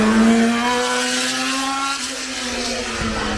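A six-wheeled Formula One car with four front wheels climbing a hill course at a festival of speed, its engine a steady high drone holding pitch as it passes, loud and without voices.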